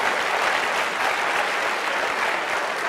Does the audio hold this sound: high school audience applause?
yes